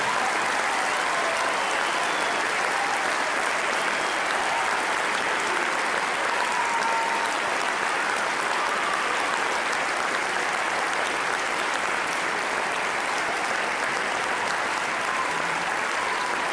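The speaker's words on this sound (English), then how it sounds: "let's please give a warm round of applause to the class of 2013 concert band" Audience at a high school spring concert gives sustained, loud applause for the class of 2013 concert band, a dense unbroken wash of clapping that holds evenly throughout.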